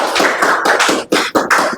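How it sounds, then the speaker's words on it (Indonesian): A small class in a history lesson claps for fellow students, a close, loud patter of hands in a few uneven bursts with short gaps between them. "Tepuk tangan dulu untuk mereka."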